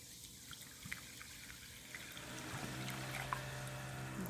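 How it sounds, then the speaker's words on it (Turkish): Soda water poured from a bottle into a bowl of spinach batter, a faint trickle that grows into a steady, louder stream of fizzing liquid toward the end, with no talking. "bir şişe soda ilave ediyorum"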